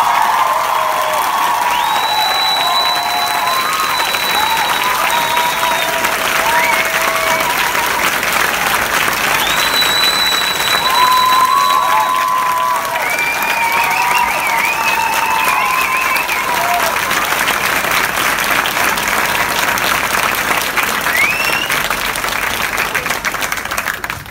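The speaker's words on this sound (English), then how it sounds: "I want us to give a really beautiful applause to my beautiful band." A big concert crowd applauds and cheers for the band of a pop singer. The clapping is loud and sustained for over twenty seconds, with whoops and whistles rising above it.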